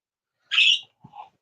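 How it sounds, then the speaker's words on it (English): Birds call nearby: one short, bright squawk, then a fainter two-part call after a brief pause, against otherwise quiet surroundings. "Noisy birds."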